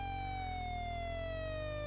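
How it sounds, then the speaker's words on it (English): A simple electronic fire truck siren from the Atari arcade game Fire Truck wails in a steady, slowly falling tone over a buzzy, constant synthesized engine drone, loud and unbroken throughout. "The siren probably doesn't need to be there, but you know, you're driving a fire truck"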